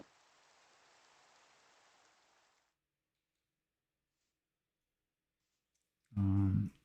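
Rain falling in the Minecraft video game, a soft, even hiss lasting about two and a half seconds before it cuts to silence. A voice then briefly speaks.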